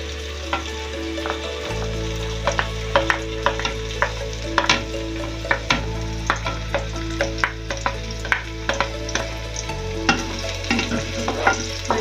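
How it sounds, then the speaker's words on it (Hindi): Chopped onion and garlic hitting hot oil in a pan while cooking daal chawal, a steady loud sizzle broken by frequent sharp clicks and scrapes of a spoon stirring, close up with no talking. "जी तो ऑयल हमारा जो है वो अच्छे से गर्म हो चुका है। अब हम इसके अंदर अपना प्याज और लहसुन कटा हुआ"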